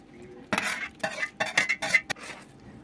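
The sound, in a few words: stirring vegetable salad in a pot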